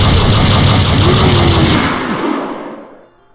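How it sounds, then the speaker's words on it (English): A Gauss Cannon in Project Einherjar fires a loud, dense barrage of rapid pulsing blasts with a rumbling tail, then tapers off into silence after about two and a half seconds. "Oh, Gauss Cannon. It's this little thing, the Gauss Cannon."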